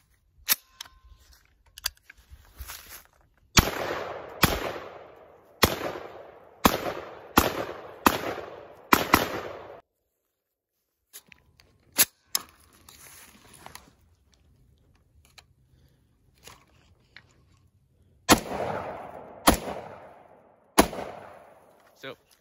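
A customized RF-15 rifle firing outdoors, with sharp, loud single shots in uneven groups: a quick string of six or seven, a quieter gap, then a few more cracks near the end.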